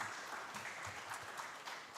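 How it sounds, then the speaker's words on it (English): Faint, distant applause from an audience, a soft continuous patter of clapping that stays even throughout. "A warm round of applause for her as she comes"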